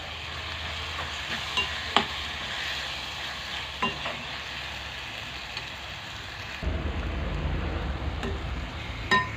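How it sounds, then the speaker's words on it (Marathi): Dal and raw mango curry with turmeric sautéing in a pan, a steady sizzle with scraping stirs and spoon knocks, growing louder and fuller partway through; no talking. "एक दोन मिनटंच आपण ही भाजी चांगली परतून घ्यायची आहे"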